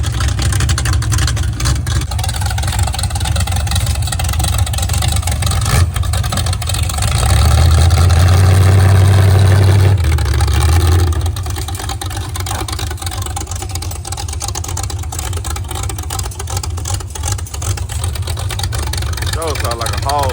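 A car engine idles choppily with a loud, uneven, low rumble that surges louder for a few seconds midway before settling back, while people talk nearby.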